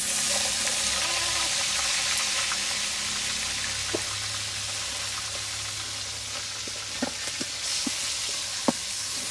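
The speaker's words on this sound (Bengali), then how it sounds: "এখন আমি এখানে হচ্ছে পেঁয়াজ আর মরিচ দিয়ে দিব।" Onion and chili sizzling in hot oil for a sweet pumpkin dish, a steady broadband frying hiss throughout with a few faint clicks and small pops.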